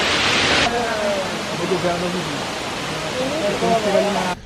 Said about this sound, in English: we've come further into the Tijuca forest to see this amazing waterfall